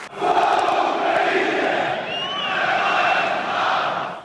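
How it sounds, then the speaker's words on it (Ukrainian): A stadium crowd of Belarusian football fans chants and roars in unison at a Belarus–Ukraine match, a dense, loud wall of voices with a whistle cutting through midway. "саме білоруські фанати почали вигукувати Слава Україні"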